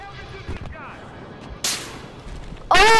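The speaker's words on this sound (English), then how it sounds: "Oh, I'm getting sniped." Sniper gunfire in a video game comes as a few sharp, loud cracks, one around the middle and a heavier burst at the end, amid quieter game sounds and a brief voice.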